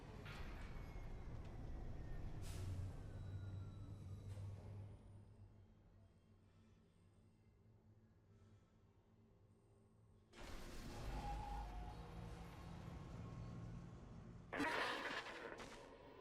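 A tram in the video game Dead Space rumbles in with low, sustained mechanical noise. A sharp hiss or clank sounds near the start, a loud surge of arrival noise follows after a quiet stretch, and a bright metallic burst comes near the end.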